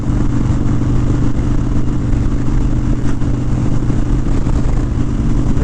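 A Harley-Davidson Dyna Street Bob motorcycle rides along at steady speed, its engine a loud continuous rumble with wind noise throughout and no voices.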